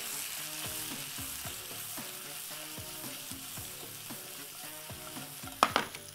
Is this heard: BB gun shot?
no